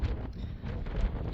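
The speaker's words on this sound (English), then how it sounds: "And it's windy." Brief low rumble of wind buffeting the microphone in the desert along the Pacific Crest Trail, steady and close, with no voices.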